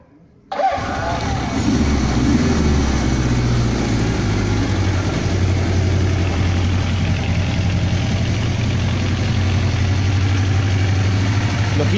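A warm 1979 Suzuki GS 850 motorcycle engine cranks and catches after a short quiet moment, then settles into a loud, steady, slightly fast idle with a low rumbling drone that continues without pause.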